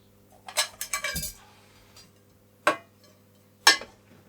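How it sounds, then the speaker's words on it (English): Metal clinks and clatters as a lid is fitted onto a pot over a Trangia spirit burner: a short cluster of rattling knocks, then two sharp separate clinks, close and with no voices. "Now, I'm just going to put a lid on it."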